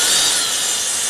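A hand drill bores a tap hole into a tree trunk for collecting sap, giving a loud, close, steady grinding rasp with no speech.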